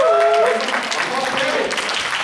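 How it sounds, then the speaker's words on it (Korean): A young adults' church congregation claps together at the close of a Sunday worship service, a short burst of applause following a voice, with the clapping steady and moderately loud in a hall. "박수 3번 시작"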